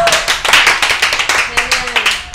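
A live audience breaks into rhythmic clapping after a Cuban singer-songwriter's performance, with bright, close hand claps landing in a steady beat for the whole stretch while voices talk over them.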